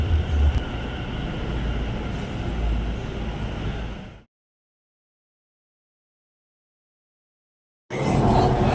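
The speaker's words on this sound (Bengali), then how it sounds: "ওই চলে এসছে আমাদের মেট্রো ট্রেন" A metro train arrives at an underground station in Kolkata, rumbling loudly with a steady mechanical roar, then cuts to silence before the noise returns abruptly.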